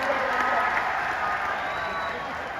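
Audience at a political rally breaks into loud, dense applause that stays steady throughout, with some crowd noise mixed in.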